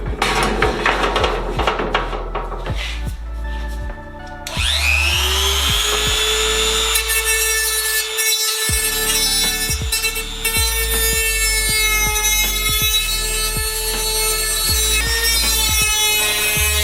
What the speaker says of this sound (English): I went ahead and purchased an actual Dremel metal cutoff wheel for it